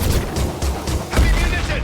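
Suppressive gunfire in Mass Effect 2, a series of rapid bursts and booms over a busy combat din, with voices talking over it.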